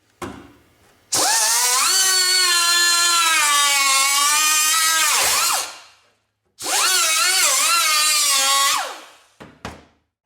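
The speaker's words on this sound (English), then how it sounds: "So I'm just going to take the saw and run through the rust." A high-speed power saw cuts through the rusty floor pan of a Jeep in two long, loud, whining passes. Its pitch sags under load between them, and the saw spins down after each pass before a few short final bursts.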